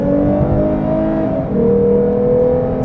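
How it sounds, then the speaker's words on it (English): A 2021 Lexus IS350 F-Sport V6 revs hard, its induction roar rising in pitch, dipping briefly mid-rev and climbing again, loud and close from the cabin with no talk. "A lot of it is induction noise when you put your foot down."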